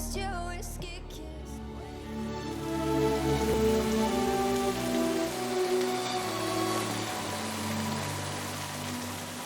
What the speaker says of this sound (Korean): 하늘에서 굵은 빗방울이 쏟아집니다.